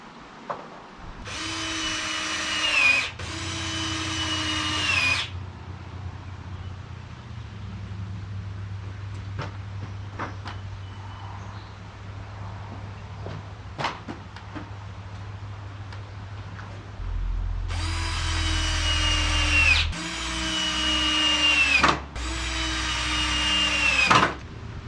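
A power drill drives screws into a wooden window frame in a dirt-floor shop: two rising whining bursts, a long quieter stretch of low hum and handling clicks, then three more close, loud bursts.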